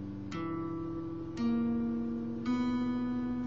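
Electric or acoustic guitar strings plucked one at a time over a held chord, three clear note attacks spaced about a second apart, each ringing on, close and fairly quiet, no voices.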